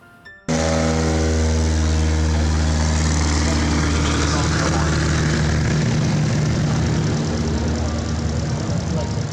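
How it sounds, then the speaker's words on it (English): A Piper Super Cub float plane's engine starts abruptly and drones loudly and steadily, a close, buzzing roar that continues without a break. "We had a bush pilot demonstrate his Super Cub float plane"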